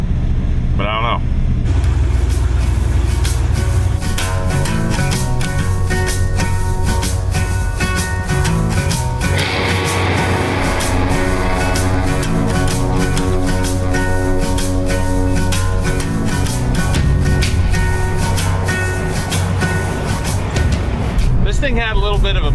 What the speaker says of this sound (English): This thing had a little bit of a miss, but it is getting a lot worse. It's just spit sputtering as I'm driving here.